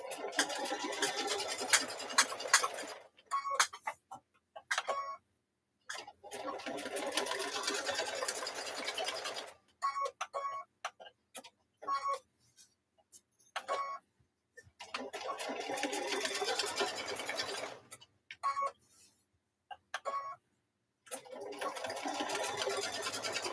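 A sewing machine stitches a pot holder with a double blanket stitch, running in steady loud bursts of a few seconds each, stopping and restarting several times with short quiet gaps between runs.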